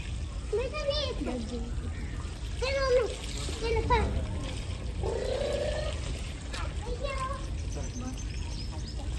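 Water pours and splashes onto plants in a home garden, a continuous low rushing trickle beneath several voices, including a child, talking over it.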